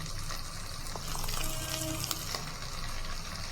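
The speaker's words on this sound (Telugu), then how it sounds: "ఇలాగా మొత్తం ఫ్రై చేసుకోవాలా" Beans curry frying in a pan, a steady close sizzle with light stirring scrapes and a few clinks, loud and continuous without any talking.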